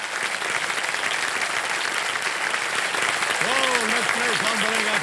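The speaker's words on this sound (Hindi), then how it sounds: "एक बार तालियां बज जाएं अर्चना जी के लिए।" Studio audience at a Kaun Banega Crorepati quiz show taping claps steadily and loudly throughout, with a voice briefly breaking through near the end.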